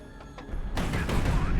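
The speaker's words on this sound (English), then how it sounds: "Missile away." Missile launch in High Fleet, a sudden loud roaring whoosh that bursts in and holds as a dense rumbling blast after a quieter lead-in, close and forceful, with no clear talk over it.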